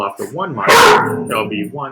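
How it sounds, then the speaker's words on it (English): A pet dog barks sharply once in a home, close and loud, cutting into a man's ongoing speech. "Sorry about my dog."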